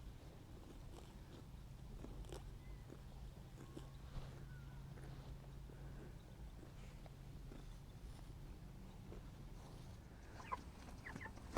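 Meat chickens about six weeks old cluck and chatter steadily at a moderate distance on a farm, with a low rumbling background and occasional sharper peeps.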